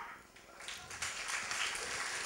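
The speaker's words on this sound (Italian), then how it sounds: "Grazie dell'applauso, grazie infinita." An audience at a Befana evening in Tavernelle di Serrungarina claps for the singer, applause rising and thickening after a quieter start, moderately near.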